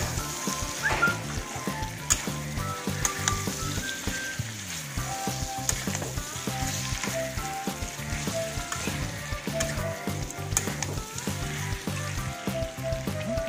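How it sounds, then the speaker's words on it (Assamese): Chopped tomatoes fry in a hot wok while pork with rosella leaves is being cooked, producing a steady crackling sizzle with occasional stirring scrapes and clinks, continuous and close. "বিলাহীখিনি পেলাই কেৰাহীখনত দি কিনে আকৌ ভাজিব।"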